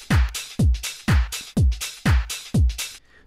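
A drum-heavy intro from a music track, with six or seven booming kick hits in a steady pattern, bright hi-hats and shakers ticking between them. The hits are loud and close, with no talking.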